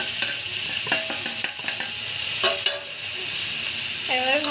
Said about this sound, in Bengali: এবার ভালো করে নেড়ে চেড়ে নেব।